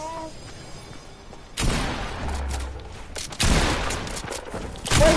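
Video game gunfire erupts in loud, rapid bursts, several volleys of close shots crackling in sequence with short quieter gaps between them.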